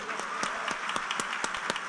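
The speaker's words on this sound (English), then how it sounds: "a huge round of applause" Youth meet audience applauding the event team, brief steady crowd clapping at moderate level with several sharp individual claps standing out from the wash.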